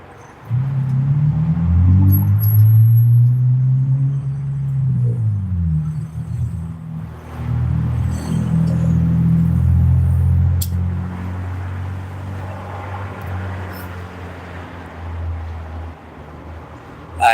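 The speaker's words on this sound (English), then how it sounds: "That car sounds good." A car engine passes by outdoors, a deep rumbling growl that swells loudly, shifts in pitch as the vehicle goes past and lingers before fading, with no talking over it.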